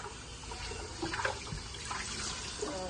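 Water runs and sloshes steadily while a cooking pot is rinsed out, a close, continuous splashing with a few louder surges and gurgles.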